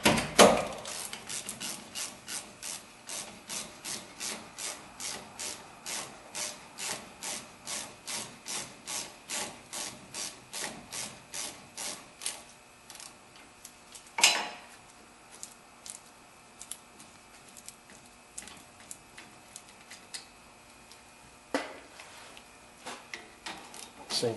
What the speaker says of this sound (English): you're going to remove the two caliper mounting bolts